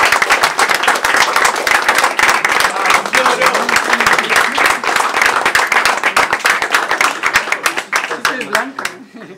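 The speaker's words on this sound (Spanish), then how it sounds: "Le damos un aplauso." A crowd claps steadily for a guest at a chess club, with dense, loud applause throughout that thins and fades near the end, and voices mixed in beneath.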